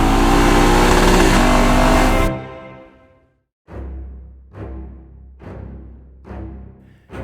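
A Lexus LC500 with a naturally aspirated V8 roars loudly at full throttle, then cuts off and gives four sharp, evenly spaced blips that each rise and fade away.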